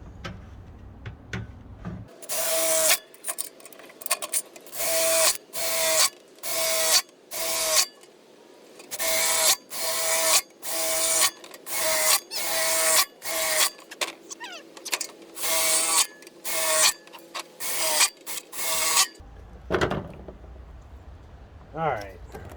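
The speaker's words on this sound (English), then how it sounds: "More hole drilling." A power drill boring holes into a scrap metal racing fuel can, in repeated short bursts of high whine with brief pauses between, close and loud, ending with a few clanks.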